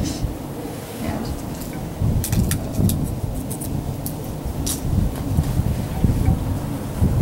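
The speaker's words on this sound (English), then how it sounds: "this fucking wind is not helping me in the slightest" Gusty outdoor wind roars across the microphone during an outdoor ritual, a steady low rumble with brief louder buffets and faint crackling, no voice present.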